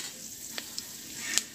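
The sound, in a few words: minced ginger and garlic sizzling with frying cabbage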